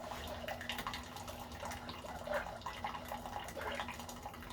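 A Keurig coffee machine brewing plain water during descaling, a soft steady stream of water trickling and gurgling into a cup over a low machine hum, faint and continuous.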